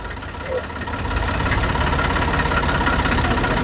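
A Dabang tractor engine runs at a steady idle close by, a constant low rumble that grows slightly louder after the first second.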